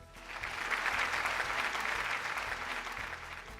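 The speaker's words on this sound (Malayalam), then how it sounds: "നല്ലൊരു കയ്യടി." Studio audience on a Malayalam TV game show breaks into a short burst of dense clapping that swells quickly and carries on steadily for a few seconds.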